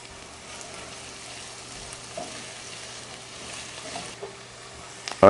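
Onion and celery sautéing in oil in a pan, a steady soft hiss and crackle of sizzling throughout, fairly quiet, with a sharp clatter at the very end.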